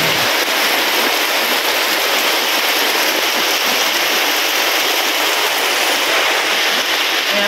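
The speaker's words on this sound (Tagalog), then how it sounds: "Grabe yung lakas ng hangin, ng ulan. Lumalakas na po yung ulan niya." Heavy typhoon rain pours down with strong wind, a dense, steady roaring wash that stays loud and unbroken throughout with no voices.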